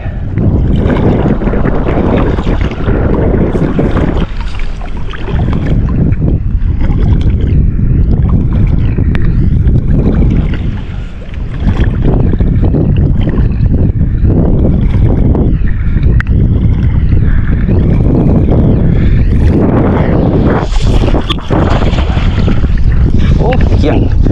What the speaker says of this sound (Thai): ลมเปลี่ยนทิศ แล้วที่บ้านขึ้นหลังไปละ